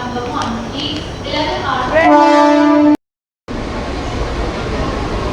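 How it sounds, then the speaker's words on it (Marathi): A train horn sounds briefly as a train arrives over busy crowd chatter on a platform, followed by a short gap, then continued station noise and voices. "ट्रेन आली आता, चल."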